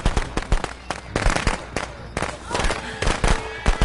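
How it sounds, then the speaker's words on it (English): Rapid, irregular bursts of firecrackers popping and crackling close by, loud sharp bangs in quick succession, with voices mixed in. "he let him throw freaking firecrackers right in front of him"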